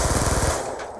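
Rapid burst of gunfire in a shooter game, a fast run of close, loud shots that stops about halfway, leaving a fading ringing tail with no talking.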